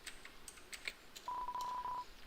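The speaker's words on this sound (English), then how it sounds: "It's a landline phone, but you already have a cell phone." Landline phone being used in the video game Deltarune: a few short electronic beeps and blips, followed by a steady, sustained tone that briefly stops and then resumes, with no talking.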